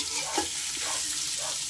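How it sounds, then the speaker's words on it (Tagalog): Hotdogs fry in hot oil in a large pan, giving a steady soft sizzle with faint stirring scrapes and no talk. "Ilagay ang hotdog at maprito muna."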